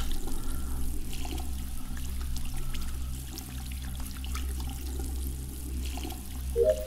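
Water streams steadily from a shower during a task in the video game Among Us, a continuous, fairly soft rushing and trickling that stays even throughout with no talking.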